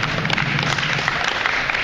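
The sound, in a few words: audience applause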